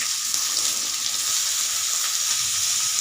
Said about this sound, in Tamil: வெங்காயம் போட்டு இந்த மாதிரி கிளறி விடணும்